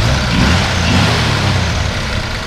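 A 1964 Ford F100 Custom Cab's six-cylinder engine hums loudly up close, swelling slightly in a brief rev before settling back into a steady idle rumble.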